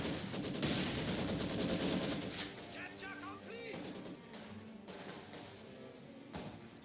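Rapid bursts of machine gun fire crackle in a Company of Heroes 2 winter battle, mixed with heavier gunshots and thuds, loud and dense at first, then thinning into scattered shots.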